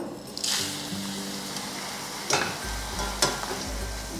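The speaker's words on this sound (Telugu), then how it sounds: "ఇప్పుడు మురమురాలను వేయించుకుందాము." Puffed rice fries in a pan for tomato bajji, giving a steady sizzle with stirring scrapes and a few sharper clatters. There is no talk.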